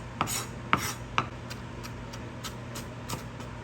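A knife rocks across a cutting board while finely chopping vegetables for red lentil dahl, producing a few sharp close taps followed by softer, quicker ticks.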